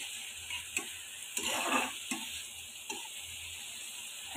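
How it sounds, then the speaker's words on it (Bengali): Spice masala with mustard powder frying in a pan: a soft, steady sizzle with a few scraping stirs and light clicks of a utensil, fairly quiet and close, no voices. "এখন আমি এটাকে ভালো করে আর একটু কষিয়ে নিব, ভেজে নিব"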